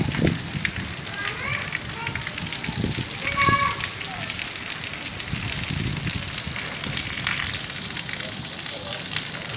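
Heavy rain pours down steadily in a dense, hissing wash, close and loud throughout, with a few faint voices under it.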